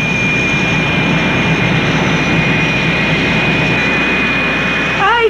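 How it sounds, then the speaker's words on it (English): A jet plane comes in to land on the aircraft carrier USS Eisenhower, giving a loud, steady roar throughout with a sustained high whine over it, swelling slightly at the very end. "Plane coming in there is piloted by my good friend, Lieutenant Dave Walsh"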